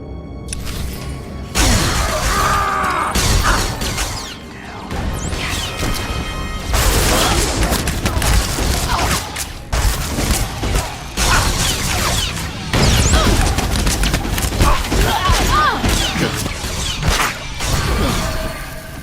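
Blaster gunfire during a trooper battle on Coruscant in Star Wars: The Old Republic, a dense, loud run of crackling shots, bursts and impacts with sound effects that goes on almost without pause.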